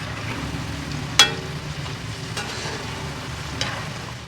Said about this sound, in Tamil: பன்னீர் சேர்த்துட்டு 1 நிமிஷம் ஆனவுடனே நல்லா கலக்கி கொடுங்க.